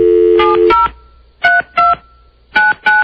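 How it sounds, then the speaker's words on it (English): Telephone keypad dialing tones: a long steady tone, then several crisp, evenly spaced touch-tone beeps in pairs, loud and clear with no talking. "We're going to try to call John Pop now"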